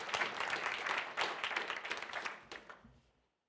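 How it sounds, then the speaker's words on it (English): Symposium audience applauds a speaker's introduction, dense clapping from many hands filling the room, holding steady then thinning and fading out near the end. "A warm applause for Richard Whitehurst."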